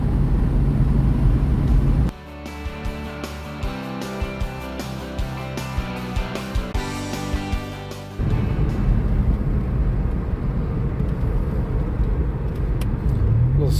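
A hot rod driven hard on winding country roads, its engine note loud and continuous with a shifting, revving tone in the middle stretch and steady road and wind roar before and after.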